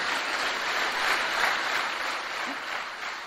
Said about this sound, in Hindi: दोस्तों, कांति के लिए जोरदार तालियां हो जाए